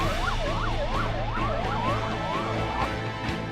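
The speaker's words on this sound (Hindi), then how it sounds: "सायरन बजाती हाईटेक एम्बुलेंस मुसावनी की सड़कों पर दिन रात दौड़ रही है।" A hi-tech ambulance races along town streets with its siren wailing, a loud, rapidly rising and falling electronic yelp repeating over steady traffic rumble, with no talking.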